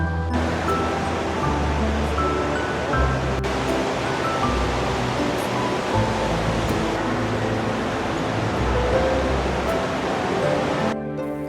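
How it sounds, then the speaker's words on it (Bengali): The Rhine Falls in Switzerland, a massive waterfall carrying about 600 cubic metres of water per second, roaring as a loud, dense, unbroken wash of noise throughout with no voices. "এই সময় প্রায় 600 ঘনমিটার পানি প্রতি সেকেন্ডে জলপ্রপাতের উপর দিয়ে নিচে নামতে পারে"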